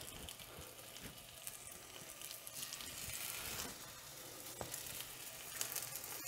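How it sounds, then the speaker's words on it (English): Baby potatoes sizzle and crackle steadily in hot duck fat in a cast iron skillet, a constant fine frying hiss with occasional sharper pops and a light stir. "our baby potatoes are now frying away in the duck fat"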